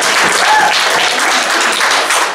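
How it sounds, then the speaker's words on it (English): Church congregation clapping hands in praise during a worship service, a dense, steady wash of many hands close by with no clear gaps. "Come on, give me more hand clap of praise."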